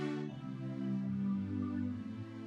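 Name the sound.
digital keyboard string section sound patch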